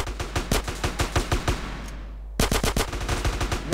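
Automatic gunfire in GTA San Andreas hammers out in a steady, rhythmic stream of loud shots, breaks off for a moment with a fading tail, then resumes at the same rapid pace.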